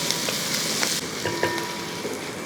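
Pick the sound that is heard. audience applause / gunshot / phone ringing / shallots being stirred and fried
shallots being stirred and fried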